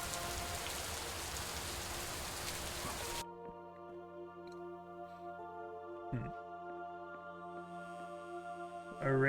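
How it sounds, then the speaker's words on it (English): Steady rain hissing in the dream-like puzzle game Superliminal, a dense wash that cuts off abruptly partway through, leaving quiet ambient tones and a few faint knocks. "The rain is going up and down."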